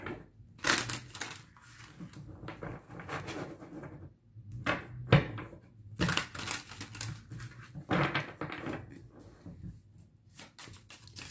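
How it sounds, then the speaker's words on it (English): Tarot cards being shuffled by hand, in bursts of riffling and soft slapping separated by short pauses, close and fairly quiet with no voices. "Let me shuffle my cards real quick."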